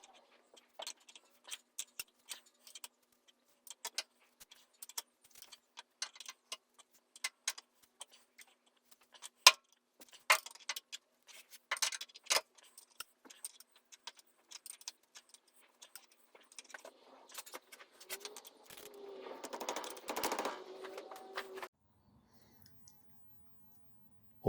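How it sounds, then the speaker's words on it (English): On an Alvis 12/50, a nut is tightened onto the camshaft gear wheel, producing quiet, sparse metallic clicks and ticks in irregular clusters, with a brief denser scraping rattle near the end before it falls silent. "now we're going to tighten the nut up and let the nut tighten the gear wheel onto"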